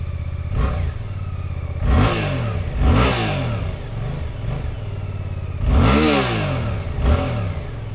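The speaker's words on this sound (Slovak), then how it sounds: "Veľmi pekný zvuk radového dvojvalca, motor sa veľmi rád nechá vytočiť aj do teda tých vyšších otáčok" A 2024 Suzuki parallel-twin motorcycle engine, GSX-8R or V-Strom 800, idling with a throbbing pulse and revved repeatedly in sharp, loud blips that climb and fall back, close to the listener.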